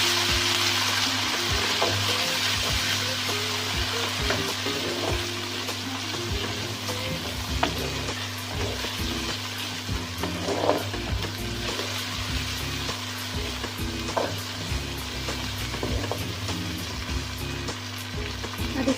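Peas sizzling and frying in a pan while being stirred, cooked for matar pulao, with a steady loud hiss and occasional scraping stir clatters throughout, no voices.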